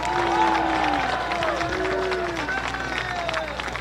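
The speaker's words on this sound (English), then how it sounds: "Once again, a round of applause for Alex Hensley." Applause and cheering rise from the crowd at a Lewis & Clark Pioneers college football game against George Fox, sustained and fairly distant, under an announcer's voice and scattered shouts.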